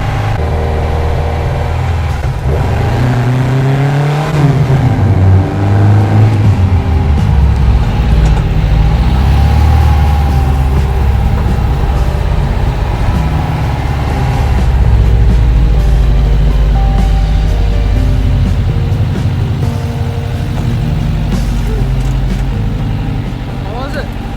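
A 1974 VW Super Beetle with a 2054cc stroker engine drives on the highway, its engine droning steadily and loudly throughout with a slight rise in pitch, while people talk over it.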